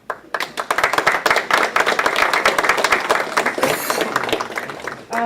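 Applause from a banquet audience at a middle school awards dinner, dense and steady hand clapping from many people lasting several seconds, fairly close and loud.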